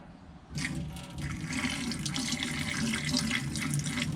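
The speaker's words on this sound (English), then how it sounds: "why am I pouring antifreeze down the drain?" Non-toxic antifreeze pours down a drain on a boat, starting abruptly after a brief quiet moment and then continuing as a steady gurgling, rushing flow of liquid close by.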